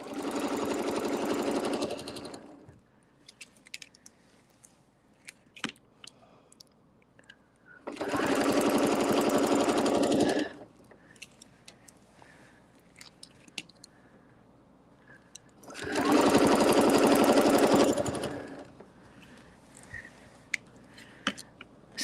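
A sewing machine stitches during ruler quilting in three loud, close bursts of about two to three seconds each, a rapid whirring hum separated by quiet gaps with faint handling clicks.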